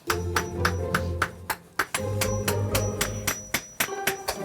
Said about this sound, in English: It's hammer and chisel time.